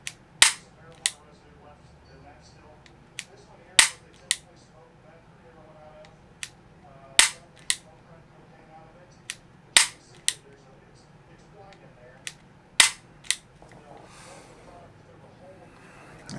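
A double-action pistol fitted with a Mantis X sensor fires a series of sharp, loud cracks at irregular intervals, each a brief snap against a quiet room background.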